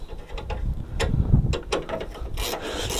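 Bolt being done up by hand with a wrench, a few close ratcheting clicks and mechanical rubs spread across several seconds, moderately loud with a low rumble underneath and no speech.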